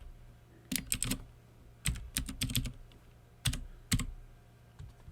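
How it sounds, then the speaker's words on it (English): Fingers tap on a computer keyboard in short bursts of quick clicks separated by brief pauses, close and fairly quiet in a still room. "I'll keep trying to type it."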